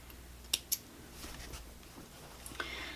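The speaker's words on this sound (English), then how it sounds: "now I'm going to trim up any other threads that might be loosey-goosey" Scissors snip loose threads on a quilted triangle bag, two quick, crisp, close clicks early on, then faint handling noises and one more soft snip near the end.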